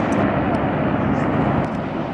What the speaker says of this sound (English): I thought this formation of helicopters would be of interest to you. It's rather unusual to see this, especially when you see that they all take off together.